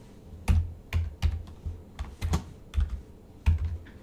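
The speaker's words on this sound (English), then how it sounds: "Sorry about my keyboard, this is silent but annoying." Close-up computer keyboard typing: about ten distinct key clacks at an uneven pace, with no voices.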